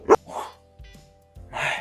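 A small dog lets out a few sharp, close barks and yips in quick bursts separated by short pauses, loud against a quiet room.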